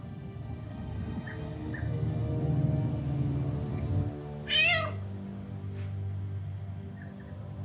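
A single cat meow from Baldur's Gate 3 rises clearly over a low, steady ambient bed of game music, with a fainter short call later on.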